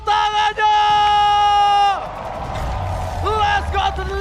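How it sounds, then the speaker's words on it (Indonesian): A live esports crowd at a lower-bracket final match between TLID and BTR. A loud sustained tonal sound cuts off, leaving a roaring audience with clapping and cheers rolling through the hall. "Eldorado, mana tepuk tangannya?"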